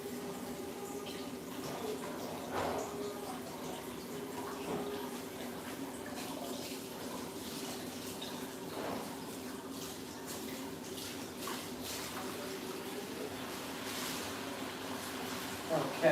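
Running tap water rinses something out at a kitchen sink, a steady faint stream with occasional small clatters and splashes, continuing throughout with no talk over it.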